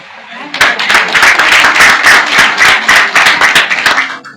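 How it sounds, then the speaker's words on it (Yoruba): Audience clapping in applause for an elder at a Yoruba community gathering, a dense, steady burst of many hands lasting several seconds, loud and close. "Ẹ ṣeun ẹgbẹ́ jẹ́ ká pàtẹ́wọ́ fún bàbá wa rẹ̀"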